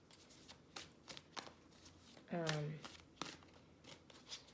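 Tarot cards are shuffled in several quick, soft riffling bursts spread across the moment, close and fairly quiet, with one brief higher tonal sound in the middle.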